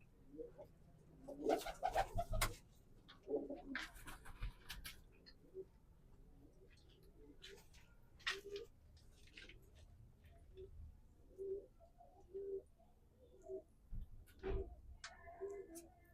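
Pet pigeons of a Fauji Butari line coo in soft, repeated calls at close range, with scattered ticking and rustling around them and brief louder bird sounds early on.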